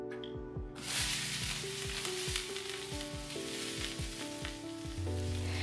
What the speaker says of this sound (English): Right now I'm frying off some onions and peppers for that shakshuka